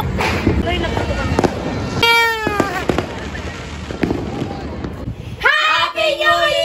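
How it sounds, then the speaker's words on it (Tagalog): New Year's night fireworks and firecrackers heard from a rooftop, with scattered loud cracks and pops in a steady noisy din, along with whistling rockets and people talking and cheering throughout. "Loy, nagputok kami."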